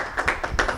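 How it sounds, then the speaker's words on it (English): A small audience gives State Rep. Mike Glanton a few quick, sparse claps, close and light, over a brief moment with no voices. "give Representative Mike Glanton a warm round of applause for taking us on this"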